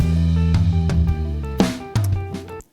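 Live electric guitar recorded dry in Logic Pro X with no effects, playing sustained chords with a few sharp strums and changes, loud and close, ending abruptly.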